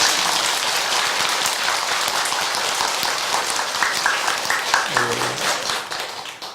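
Temple audience at a Buddhist dharma gathering applauding together, a dense, steady wash of many hands clapping close and loud that holds throughout and tapers slightly at the end.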